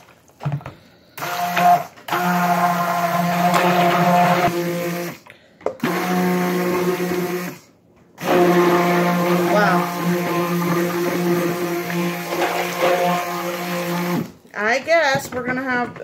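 A stick blender hums loudly and steadily through green soap batter, stopping briefly a few times, with people talking around it.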